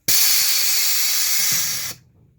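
Air rushes out in one loud, continuous hiss as the rear air suspension deflates. It holds steady for about two seconds, then cuts off abruptly, leaving a faint low hum.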